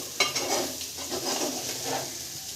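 Chicken frying in oil in a pan, a close, steady sizzle with soft crackling and a faint utensil knock near the start, with no talk.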